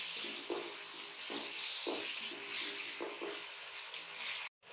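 Onions frying with cumin in a pan on a stove set low on the floor, a steady sizzle with soft periodic stirring scrapes, then a brief sudden dropout near the end.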